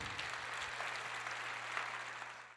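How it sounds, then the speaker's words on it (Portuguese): Church audience applause during a sermon, a soft, steady patter of clapping heard at a distance with a low hum beneath, fading slightly at the close. "Você pode aplaudir o Senhor?"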